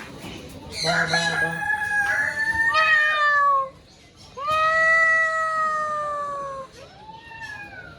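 A chicken calls loudly and repeatedly, drawn-out crowing cries close by, each rising then trailing off, with a short pause between calls.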